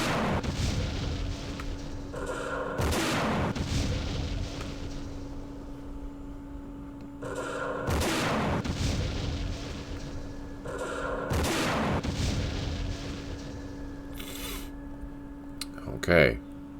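Bursts of machine gun and recoilless rifle fire in the Vietnam-era wargame Campaign Series Vietnam, set at Dien Bien Phu: several loud, broad volleys repeat every few seconds over a steady background hum, with a sharp final report near the end.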